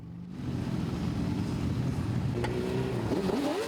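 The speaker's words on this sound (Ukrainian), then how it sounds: "Повільно, але гучно Ужгородом пересувається колона мотоциклістів." A loud, steady roar of a column of motorcycles rolling slowly together through a city street, with a rising whine near the end.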